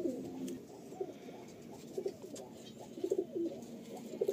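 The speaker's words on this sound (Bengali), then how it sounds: "এই হলো ফেস বিউটি পায়রাটা" A female Face Beauty pigeon, a tournament high-flying breed, coos softly in repeated low bursts, close by and fairly quiet, with no talking.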